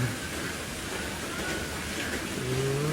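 Rain hisses steadily, fairly quiet and even, heard from a pavilion, with a faint tonal hum drifting in near the end.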